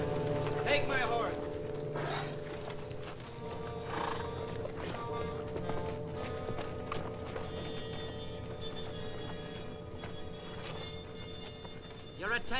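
A horse whinnies and its hooves clip-clop in a 1955 Western film scene at a camp, with voices speaking over and around the animal sounds throughout, under a steady bed of background noise.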